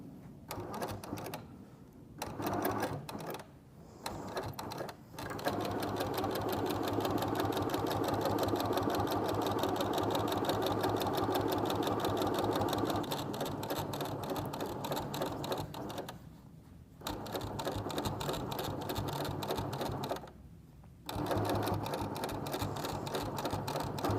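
A home sewing machine back stitching a spring pillow, its steady rapid whirring clatter running loud and continuous with a few brief pauses as the fabric is lifted and repositioned.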